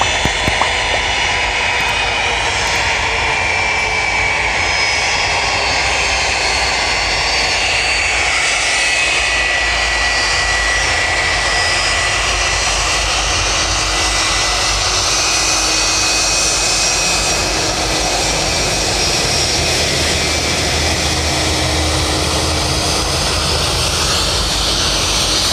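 The jet engines of a United Boeing 757 roar steadily and loudly, heard from close by as the plane lines up on the runway, a continuous broad rumble and whine that holds for the whole stretch without speech.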